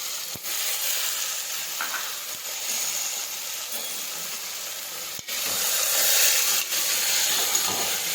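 Chopped tomatoes dropped into a hot pan with valor beans, a steady loud sizzle and hiss of frying with a few soft clicks and knocks throughout.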